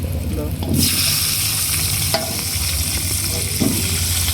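Cauliflower and potato pieces sizzle in hot oil with turmeric while being stirred, a steady close frying hiss broken by a few scraping stirs of the pan.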